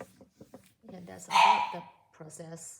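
A dog gives a brief, sharp bark and whimper indoors, close and moderately loud, cutting across a person talking quietly.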